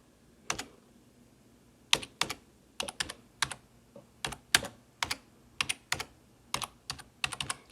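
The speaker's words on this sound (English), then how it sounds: "Look at that typing, one finger speed." Single keys on a computer keyboard are tapped one finger at a time, about fifteen sharp, separate clicks at an uneven pace in a quiet room with no talking.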